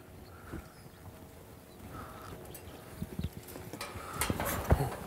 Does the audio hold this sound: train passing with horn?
no